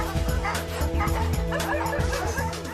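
Sled dogs before the Iditarod race bark, yip and whimper in an excited, overlapping chorus, close and continuous, with a faint voice in the mix.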